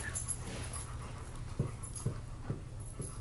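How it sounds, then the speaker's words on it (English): Steady, close panting from four dogs in one room, with a few soft whimpers and faint thumps, low and continuous throughout. "4 dogs in one room"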